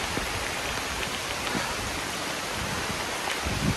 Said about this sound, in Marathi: बऱ्यापैकी मुसळधार पाऊस चालू झाला आहे.